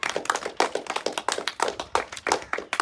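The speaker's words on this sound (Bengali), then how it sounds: "হাততালি" Hands clap in a steady, rhythmic beat at an Independence Day tribute, with crisp, fairly quiet claps repeating about three times a second and no voices over them.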